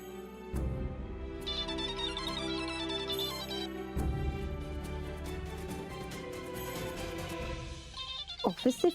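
A phone ringtone for a call from the office plays loud and continuous, a bright repeating melody over a steady musical backing, ending in a few sharp tones.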